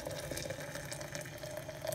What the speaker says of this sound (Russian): Заливаем кипятком.